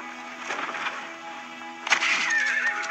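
A horse whinnies in an old-west scene set in 1944, a shrill wavering neigh rising loud near the end over a steady humming background.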